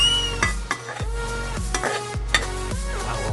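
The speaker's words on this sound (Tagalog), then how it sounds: "Lalagay po natin ng karne. Pork ribs." Pork ribs for Kapampangan-style kaldereta hiss and sizzle in a hot pan, with steady frying crackle and repeated scraping stirs of a utensil against the pan, loud and close, with no talk.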